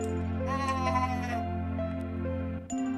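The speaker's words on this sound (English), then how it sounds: "A goat! There's a goat!" Goat bleating in Shrine's Legacy, a couple of wavering bleats over a steady droning game background, with a short sharp cry near the end.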